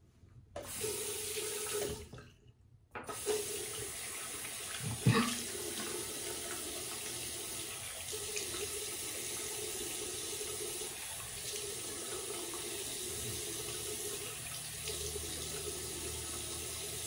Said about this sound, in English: just gonna rinse off